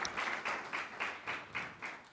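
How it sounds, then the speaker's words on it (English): A small gathering claps after student presentations at a college student congress, sounding like a few scattered, rhythmic hand claps spaced roughly every quarter second, soft and close rather than a full crowd ovation. "let's get everyone a rousing round of applause for all your presentations"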